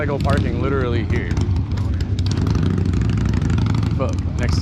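Motorcycle engines rumbling low and steady at a motorcycle parking area during the Party at the Pen 2024 event, continuous beneath close, excited male conversation.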